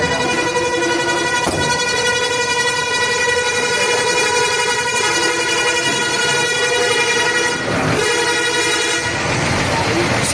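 A truck loaded with goats as cargo sounds a long, loud, sustained horn at close range, with brief sharper blasts around it and people talking in the background.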